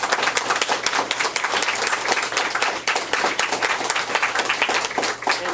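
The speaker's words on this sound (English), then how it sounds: "how about a well-deserved round of applause for all of you" Loud, sustained applause from a seated audience at a town candidate forum, dense steady clapping filling the room without a break.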